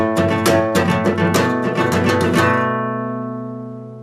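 A guitar strums two chords at full tempo in the chorus strum patterns, a quick steady run of dense strokes for about two and a half seconds, then a sustained ringing chord that decays with no voices.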